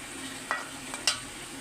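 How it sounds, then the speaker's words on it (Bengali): Boal fish frying and being stirred in a pan for a village-style curry, a soft continuous sizzle broken by a few short scraping clicks of the spatula, fairly quiet with no talking. "আমি মাছটা ভালোভাবে কষিয়ে নেব।"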